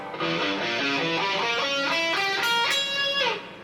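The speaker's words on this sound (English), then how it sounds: "So for the diminished scale, if you're not familiar with that, basically it's going to look and sound kind of like this." A guitar runs a quick stepwise diminished scale of single notes, climbing then descending, played cleanly and evenly without any voices.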